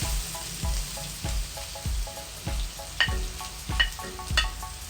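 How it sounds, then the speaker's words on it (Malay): Shallots sizzle and fry in a hot nonstick pan, a close, steady crackle broken by regular scraping stirs of a utensil against the pan, with no talking. "kuali nonstick kita dah panas, kita masukkan bawang merah dulu"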